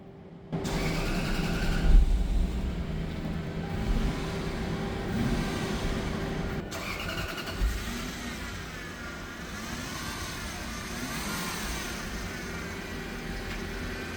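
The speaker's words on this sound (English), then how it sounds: "Now let's start the car." A 2002-2008 Lexus SC430 engine cranks and catches right after a battery replacement, settling into a steady mid-pitched idle with a faint background hum and no talking.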